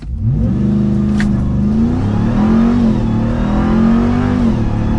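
A 2022 Ram TRX 1500 pickup truck engine roars up from a standstill on launch control, revving hard and climbing through several gear shifts, loud and close throughout.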